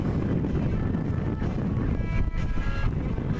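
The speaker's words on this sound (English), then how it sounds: "the wind, like I said, has picked up a little bit" Steady, loud wind roars and buffets the microphone aboard a sailboat on a tack toward the marina, a continuous low rumble with a faint tonal whine, no voices.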